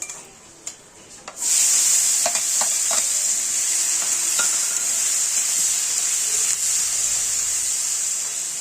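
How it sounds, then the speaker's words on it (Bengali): Chopped onion hits hot oil with a bay leaf and breaks into a loud, steady sizzle, with scattered scraping clicks of stirring over the constant hiss. "পেঁয়াজটা আমরা হালকা লাল করে নেব ভেজে।"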